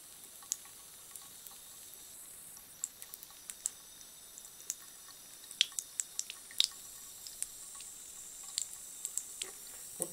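Water dripping onto a surface where damp has caused moisture damage, heard as a steady scatter of quiet, sharp drips over a faint background hiss, with no voices.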